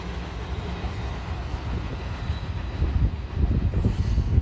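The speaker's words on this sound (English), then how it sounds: "So I hope you heard the wheels rattling along that set of rails there" Train wheels rattling along rails, a continuous loud low rumble with rhythmic clatter that grows stronger toward the end, with no talking.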